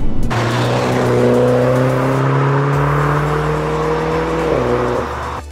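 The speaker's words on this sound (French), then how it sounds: "Là, on est dans sa voiture, sur des petites routes de campagne" A Mini John Cooper Works car engine of 231 hp hums steadily from inside the cabin, its pitch rising and shifting through gears as it drives along small country roads, loud and continuous.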